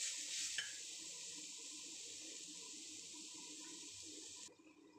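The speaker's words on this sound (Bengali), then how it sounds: "এভাবে নাড়িয়ে ভালোভাবে আমি হালকা করে ভেজে নেব।" Grated beet and carrot dry-frying in a pan with no oil, a faint steady sizzling hiss with a soft stirring scrape near the start, cutting off near the end.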